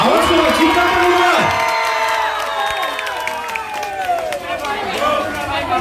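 A large crowd at a Mahalaya event with film stars shouts and cheers loudly, with whoops and screams rising over a steady roar that eases slightly toward the end, with some talk mixed in.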